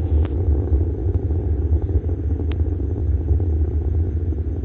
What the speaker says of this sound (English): Solid motors beginning to taper off.